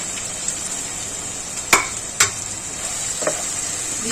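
Sautéed capsicum and fried onion are stirred in a pan over a constant high hiss of sizzling, with two or three distinct scraping knocks from the spatula.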